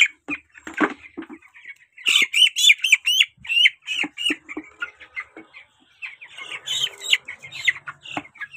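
Broiler chickens on a poultry farm squawk and cluck in repeated loud bursts while being weighed, with occasional wing flapping, close by and with no talking.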